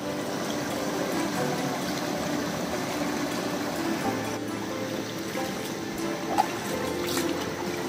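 Ice-cold mountain river water just after winter near Lepcha Falls and Jogighat, flowing steadily in a continuous close rushing wash with a few small splashes, and no one talking.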